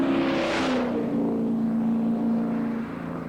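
TVR Tuscan racing car engine accelerating, a loud sustained roar with a rising whine that swells early on, then holds a steady, strong engine note throughout.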